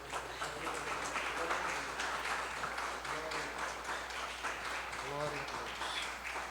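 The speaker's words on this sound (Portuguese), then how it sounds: "As palmas para o Senhor." Congregation clapping during a church healing and deliverance service, steady dense clapping filling the space with voices and a low hum mixed in.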